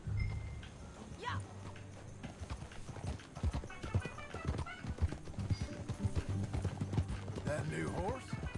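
Rhythmic clip-clop of horse hooves at a steady gait in Red Dead Redemption 2, with a horse whinnying and people talking over it.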